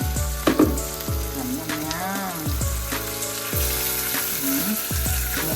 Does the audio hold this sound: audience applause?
no